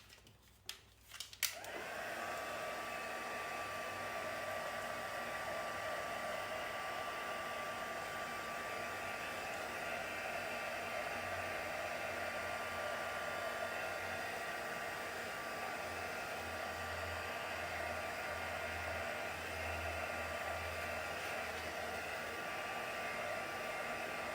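Heat dryer blowing over ink on paper, starting with a couple of clicks and then a steady, continuous whirring hum that runs unbroken for over twenty seconds.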